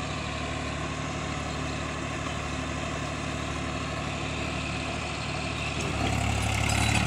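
A Swaraj 744 FE tractor pulling a seven-foot Fieldking rotavator through a field drones with a steady, low diesel rumble that swells noticeably louder near the end. No voices are heard.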